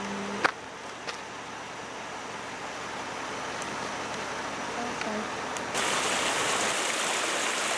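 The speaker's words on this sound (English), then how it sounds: "A little waterfall coming down" A small waterfall in Lassen Volcanic National Park pours in a steady broadband rush, heard from a moving vehicle entering the park gate, with a couple of brief knocks early on and the wash growing louder and brighter toward the end.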